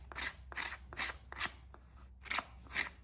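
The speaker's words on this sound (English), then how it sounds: "I'm just gonna scrape it with my knife, a few inches at a time." A knife scrapes the woody outer layer off a plant stalk in short, rasping strokes, about seven of them in a steady rhythm, close and fairly quiet with no other sound.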